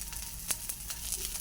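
Fish frying in a pan gives a soft, even sizzle for a moment, broken by a few faint clicks and taps, quiet and close with no voices.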